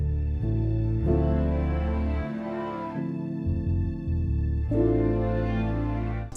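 Music sample layered with high strings from the BBC Symphony Orchestra library, a dense, warm mix of sustained chords and bass that thins briefly midway before the full layers swell back in, with no talking.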